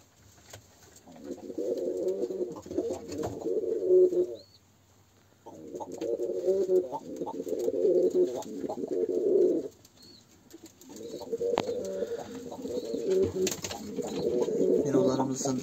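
Pigeons coo in a loft coop, deep rolling calls in three long bursts separated by short pauses, close and fairly loud, with faint rustling between.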